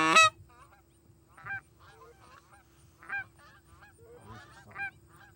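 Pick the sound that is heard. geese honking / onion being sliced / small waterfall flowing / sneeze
geese honking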